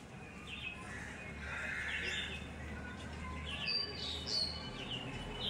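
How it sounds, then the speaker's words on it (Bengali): Several kinds of birds calling outdoors in the early morning, scattered chirps and short whistled calls at a middle distance over a low steady background hum, with no talk. "শুনতে পাচ্ছ সব কত রকম পাখি,"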